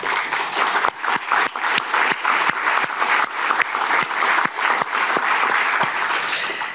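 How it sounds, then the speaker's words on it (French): An audience at the closing of the Forum Ukraine 2024 in the French Senate applauds steadily, a dense, sustained wash of many hands clapping at moderate loudness with a few sharper individual claps standing out. "je pense qu'il faudrait tous qu'on l'applaudisse."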